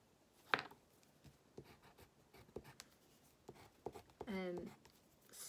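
Pen or pencil drawing shapes on paper at home, soft scratchy strokes in short bursts, quiet and close, with a faint voice in the background.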